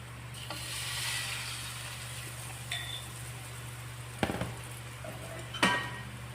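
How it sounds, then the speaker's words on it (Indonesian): Glutinous rice flour peanut crackers frying in hot oil, a steady soft sizzle throughout with a few sharp metallic clinks of a spatula against the pan, close and without talk. "Cara goreng tuh ini teman-teman, kita tuang ke pinggir ya, biar dia berbentuk."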